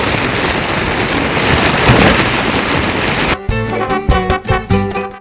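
A plastic carrier bag crumpled and shaken to mimic rain makes a loud, dense crackling hiss, close up, for about three seconds before it abruptly gives way to rhythmic music.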